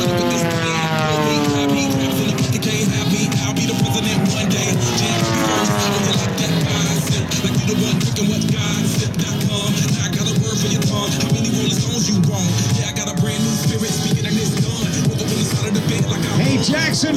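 Red Line aerobatic airplanes at a naval air station air show roar loudly and continuously through opposing hammerhead stall turns, with engine tones rising and falling in sweeping pitch shifts as the aircraft climb, pivot and dive.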